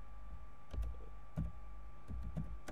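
Computer keyboard being typed on to enter a sentence, with soft irregular key clicks in short bursts over a steady low hum.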